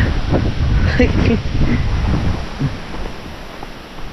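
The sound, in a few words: strong wind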